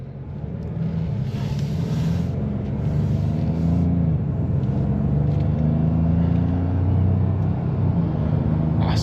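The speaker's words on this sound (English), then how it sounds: "you can definitely feel a little bit of turbo whistle from the engine." A 2025 Ford Maverick Lobo with a 2.0L turbo engine and a sport-tuned 7-speed automatic accelerates, heard from inside the cabin. The engine drone is steady and low, and its pitch climbs and drops through the gear changes.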